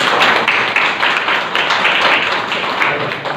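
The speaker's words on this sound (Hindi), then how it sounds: "सभी के लिए जोरदार तालियां" Students at a block-level science seminar receive applause from the audience, a dense, loud, continuous wash of clapping throughout the short stretch.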